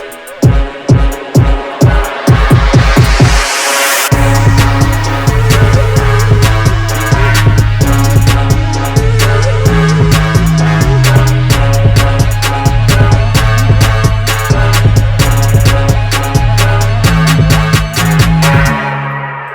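A K-pop beat built in FL Studio opens with a few punchy hits, then after a brief drop launches into a dense, loud full mix of driving drums, heavy bass and bright synths that runs steadily to the end.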